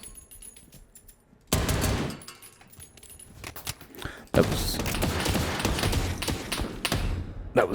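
Loud, sustained bursts of rapid automatic gunfire from the night mission of the video game Operator: Tier 1, with clattering metallic mechanical sounds and a quieter gap between the bursts.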